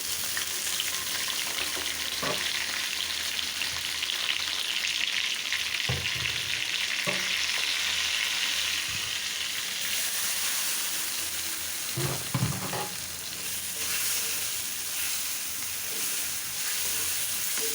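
Spices, tomato, onion, ginger-garlic paste and green chillies fry in a pan with a steady, loud sizzle throughout, broken by a few utensil scrapes and knocks while the masala is stirred.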